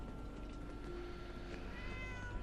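A cat meows indoors in a Fallout 4 game scene, a drawn-out tonal call rising over a steady background hum and game ambience, with no talking.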